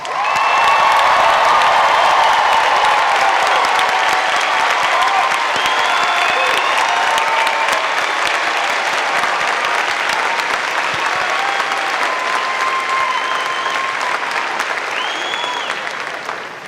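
A large audience at a 2019 afternoon college commencement gives graduates loud, sustained applause with scattered cheers and whoops, tapering slightly toward the end.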